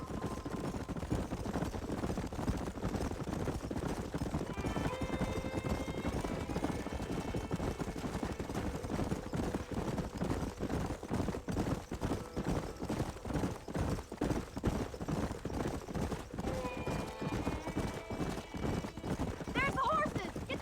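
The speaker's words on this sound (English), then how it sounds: "There's the horses!" Horses galloping in Red Dead Redemption while following a herd, rapid rhythmic hoofbeats pounding continuously with occasional whinnies and game music drifting over them.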